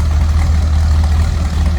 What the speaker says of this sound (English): so you can hear this 455 V8. A little rumble to it with that dual exhaust.